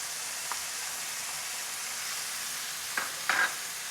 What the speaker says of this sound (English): Now add your chickpeas. Also add your passata